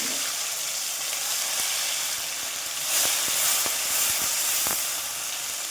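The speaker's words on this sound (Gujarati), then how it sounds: "હવે બધું આપણે તેલમાં નાખીને ચોથો કરી લઈશું" Chopped garlic, green chili and tomatoes sizzle in hot oil for a garlicky fenugreek-leaf curry, a close, steady frying hiss dotted with scattered sharp crackles and pops, with no talking.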